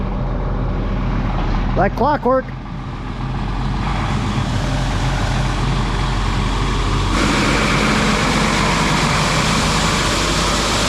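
A truck pulls into a field and idles, making a steady low engine drone with a brief rising whine near the start, while someone talks over it.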